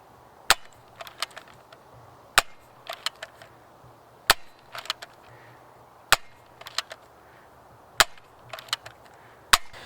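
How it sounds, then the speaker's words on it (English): A modified Nerf Zombie Strike Hammershot blaster fires foam darts upward in a range test: six loud, sharp shots about two seconds apart, each followed by softer clicks of cocking between them. "So now we're going to shoot up a little bit."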